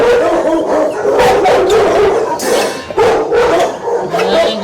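A dog at an animal shelter barks repeatedly and loudly nearby, in short sharp bursts mixed with yips and whimpering howls.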